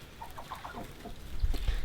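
Several chickens cluck in a short burst of soft, rhythmic calls close by on a farm on a frosty morning, with a few louder knocks near the end.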